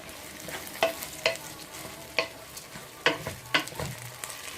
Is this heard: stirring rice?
yes